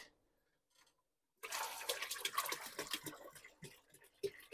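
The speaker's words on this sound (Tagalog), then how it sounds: "dadagdagan lang natin ng medyo mainit-init na tubig" Somewhat warm water pours in after a second of near silence, a steady loud splashing and gurgling stream that runs on with small surges and no voices.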